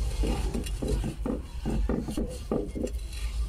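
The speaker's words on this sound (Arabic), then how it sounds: "غادي ندير ليه الشحمه، غادي نحكها عليه" Fat is rubbed by hand onto a clay tagine while preparing it before first use, giving a series of close, scraping and rubbing strokes in an uneven rhythm, with no talk.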